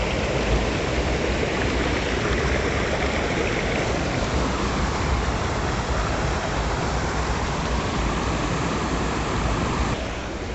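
Ice-cold water rushes down a small waterfall near the Tirumalai Nambi cave temple in a loud, unbroken hiss and roar heard up close, easing slightly just before the end, with no voices.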